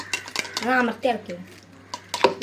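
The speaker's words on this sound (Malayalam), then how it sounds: "അമർത്തി ഇളക്കാം" A metal spoon scrapes and clinks against a pan while stirring a sweet milk mixture for pal peda, in short close bursts, with brief speech in between.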